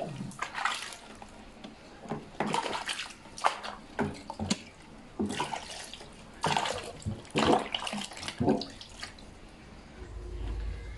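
Vegetables being washed under running water from a tap in a home kitchen while cooking ginataang langka, irregular splashing and trickling bursts, close and fairly quiet, no talk.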